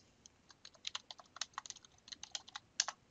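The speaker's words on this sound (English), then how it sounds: "Let's see what we get when we type Bill Gates" Typing on a computer keyboard while entering a search query: a quick, irregular run of light key clicks spread across about three seconds, close and fairly quiet, with no talking.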